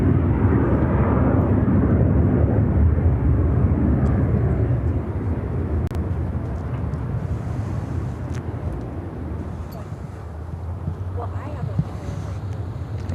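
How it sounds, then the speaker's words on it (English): A Boeing 737-800 airliner takes off from Chicago O'Hare, a broad engine roar that is strongest at first and gradually fades as it climbs away, with wind buffeting the microphone. "Airlines flight 1316 taking off to Los Angeles on the 737-800"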